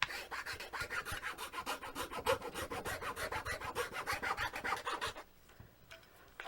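A hand file rasps across a rosewood guitar part in steady, rapid back-and-forth strokes, close and loud, continuing for about five seconds before stopping abruptly into quiet.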